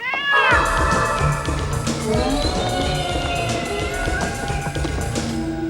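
A cat meows loudly in a scene from the 1990 horror film Tales From The Darkside, an opening drawn-out yowl followed by sustained wailing caterwauls over a dense, busy soundtrack.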